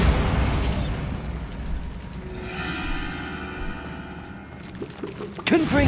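In the game Hogwarts Legacy, the Bombarda spell goes off as a loud blast, followed by a rushing, crackling roar with a ringing tone that fades before a sharp burst near the end.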